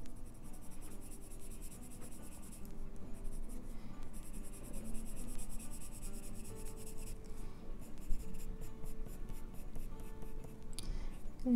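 Colored pencil scratching and rubbing over paper during a coloring session with Holbein Artist colored pencils, a steady soft texture of light strokes running throughout, fairly close and quiet, with no talking.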